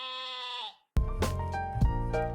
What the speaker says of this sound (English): the sheep bleats.